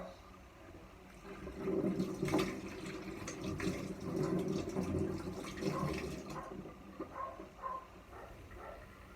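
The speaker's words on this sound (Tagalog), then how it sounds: "Hugas ang kamay." Running water splashes from a tap as hands are washed in a sink, a steady rushing flow with small splashes and brief changes near the end, no talking heard.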